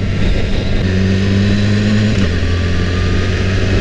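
A BMW S1000RR motorcycle engine revs close by, a loud steady drone with a rising tone that holds for a couple of seconds, then drops back and settles into an even idle.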